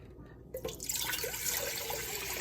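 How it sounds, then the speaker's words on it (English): Water pours from a container into a pot for a turkey brine, starting after a short quiet moment as a splashing, gurgling stream that grows fuller and continues steadily, close by with no talk. "it says to first start out with 4 cups of water. Pour that in here."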